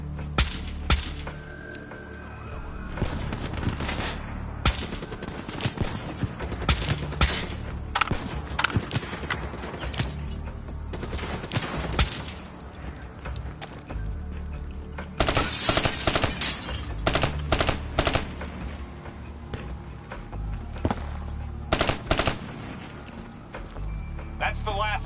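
Gunfire in a Call of Duty Black Ops 3 campaign firefight: repeated bursts and scattered shots at varying distances over about 25 seconds, with voices heard among the combat noise.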